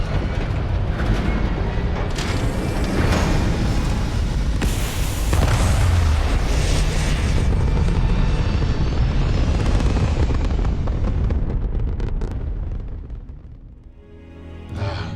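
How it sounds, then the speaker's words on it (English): A spaceship lifting off in Starfield: a loud, deep roaring rumble with booming bursts that builds and sustains, then fades away near the end. "We are cleared for liftoff."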